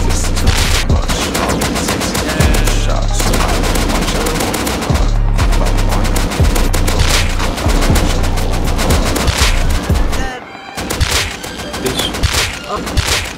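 Rapid AK rifle gunfire crackles in a video game, dense loud bursts of automatic shots with short gaps between volleys and a fuller pause near the end, close and continuous.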